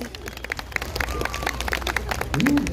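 Audience applause at a clown show, voting for the contestant Los Cuernos: scattered, moderate clapping from a crowd with some voices mixed in, continuing steadily throughout.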